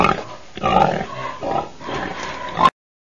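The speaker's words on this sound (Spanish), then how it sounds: "Cerdo." A farm pig grunts and oinks repeatedly in rough, snorting bursts, close and moderately loud, for a couple of seconds before cutting to silence.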